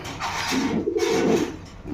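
Danish pigeons cooing, a soft low repeated coo rising and falling, close and clear with no talking over it.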